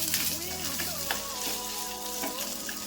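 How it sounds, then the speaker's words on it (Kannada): Onions frying in a pan for sambar, alongside green chilli, ginger and garlic, give a steady close sizzle with faint stirring clinks throughout. "ಈರುಳ್ಳಿ ಹಾಕೊತಾ ಇದ್ದೀನಿ."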